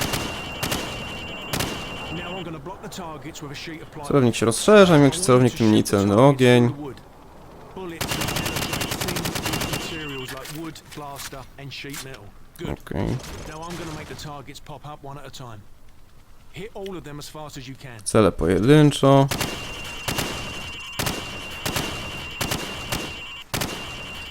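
Player weapon fire in Call of Duty 4: Modern Warfare, several loud bursts of rapid gunshots interrupted by pauses, with someone talking between and over the shooting.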